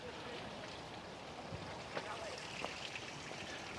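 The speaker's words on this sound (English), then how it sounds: "You've got catchment areas at the top, and this one trickles down here" A small waterfall trickles into a catchment pond, making a continuous soft, even wash of running water with a few faint splashes, heard at moderate distance.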